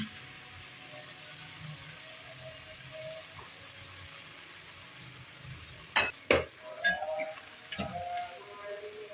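A spoon stirs garlic, ginger and green chilies in a pan for keema karela. A quiet stretch gives way to a few sharp metallic clinks and scrapes near the end, fairly faint.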